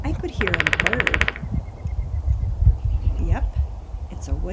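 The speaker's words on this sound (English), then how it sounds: "Yep, it's a woodpecker." A woodpecker drums in the treetops: one fast, rattling roll of rapid taps lasting about a second, fairly loud, followed by rumbling outdoor background noise.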